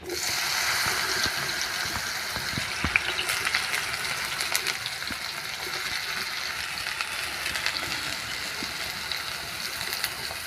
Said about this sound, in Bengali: তেলটা গরম হয়ে গেছে এবার কেটে রাখা বেগুনটা দিয়ে দেবো